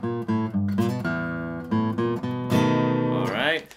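A short blues guitar lick, meant for a blues shuffle, with quick plucked notes, a few pauses, then a bent, sliding phrase to finish, played alone and close.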